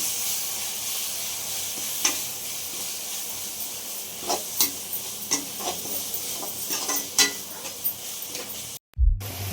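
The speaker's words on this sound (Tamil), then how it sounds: "இப்போ நல்லா கிளறி விடலாம்" Masala of turmeric, chili and coriander powder fries in oil in a pan, a soft continuous sizzle broken by repeated scraping stirs and a brief clatter near the end.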